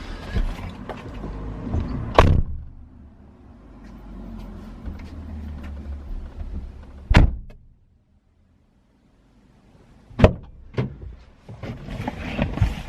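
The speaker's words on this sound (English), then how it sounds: "we'll drop the boot down, see how loud it sounds" Vauxhall Corsa boot slammed shut, with sharp broadband thuds at intervals, a cluster of several impacts, heard from inside the car amid low rumbling handling noise.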